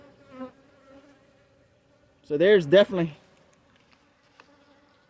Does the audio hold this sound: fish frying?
no